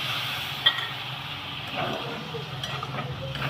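Soybean curry stir-fried in a pan, a soft continuous sizzle with a faint clink of a utensil and quiet scraping strokes, low and close.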